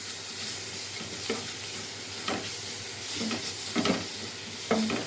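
Ginger garlic paste and chicken frying in a pan, a steady close sizzle broken by several sharp scraping stirs of a spoon against the pan, with no voices.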